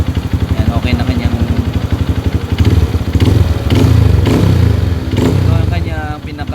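A Honda CRF150L motorcycle with a cleaned, remapped fuel injection engine runs loud and close, chugging at idle and then revving up in repeated surges toward top RPM, with a voice talking over it.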